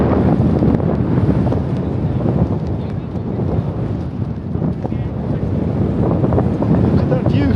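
Strong wind on Rainbow Mountain in Peru buffets the microphone in a loud, continuous rumbling roar that never lets up across the whole stretch, with no other sounds standing out.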